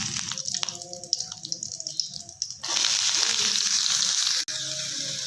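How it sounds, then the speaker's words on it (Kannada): Onions hit hot oil with mustard seeds, cumin and curry leaves for a cluster beans fry, first soft crackling and stirring, then a loud steady sizzle close by. "ಇವಾಗ ಚೆನ್ನಾಗಿ ಹುರ್ಕೊಳ್ಳೋಣ ಈರುಳ್ಳಿ. ಎರಡು ನಿಮಿಷ ಈರುಳ್ಳಿ ಮೆತ್ತಗಾಗೋವರೆಗೆ ಹುರ್ಕೊಳ್ಳೋಣ"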